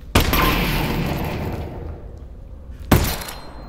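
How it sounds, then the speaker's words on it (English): A heavy blast in Half-Life: Alyx bursts out loud and close, then rumbles and fades over a few seconds, and a second sharp boom hits near the end. "Ooh, explosion?"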